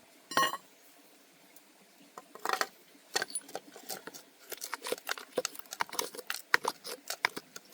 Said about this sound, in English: maybe try and chisel that piece on your right